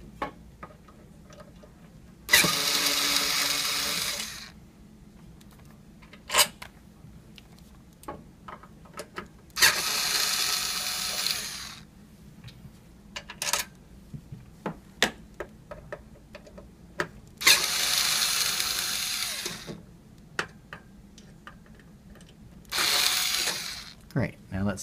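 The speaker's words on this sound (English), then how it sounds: "And now undo the three screws that hold the lock body in place." Screws holding a safe's lock body are backed out with a ratcheting tool, giving several bursts of rapid clicking separated by quiet pauses and small taps, close and fairly loud.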